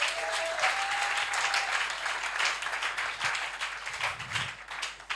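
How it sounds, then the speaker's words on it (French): A church congregation claps and cheers in acclaim of the Lord during a Sunday worship service, dense and steady applause throughout with a brief sustained tone early on. "Est-ce que tu peux acclamer le Seigneur?"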